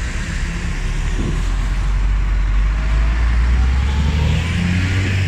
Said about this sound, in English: I'll give you some footage of these big lorries as well